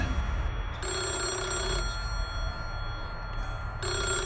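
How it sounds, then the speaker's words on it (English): Telephone ringing, a bright electronic trill in a one-second burst, a pause of about two seconds, then the next ring starting, over a low rumbling background. "And then the phone would ring."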